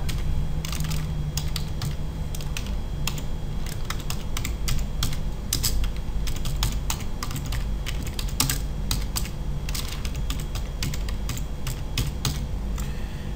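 Rapid, continuous clicking of computer keyboard keys while a project name is typed, steady and close over a constant background hum, with no voice.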